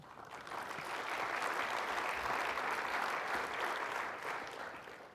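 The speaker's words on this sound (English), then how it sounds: "if I could ask you to give a round of applause for James Cordero." An audience at a digital media marketing summit claps steadily for about five seconds, a dense even wash of applause from a moderately sized crowd, rising briefly then tapering slightly.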